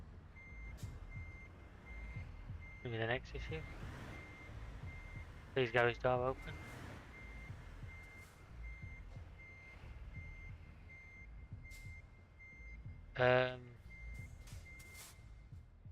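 A truck in Euro Truck Simulator 2 sounds its reversing alarm in three short bursts of rapid beeps, spaced several seconds apart over a low engine hum, while someone talks intermittently.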